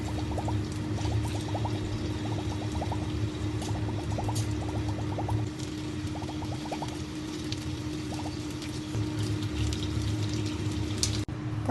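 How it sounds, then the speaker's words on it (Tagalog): Large potato slices frying in a pan for chicken curry, a steady dense sizzle with bursts of crackling pops throughout, close and loud with no talking. "Iprito muna natin konti yung malalaking slice na potato."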